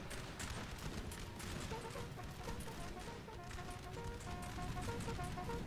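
An artillery barrage in a Napoleonic-era battle game, a steady dense rumble of distant cannon and musket fire with scattered thuds, continuous and moderately loud with no voices.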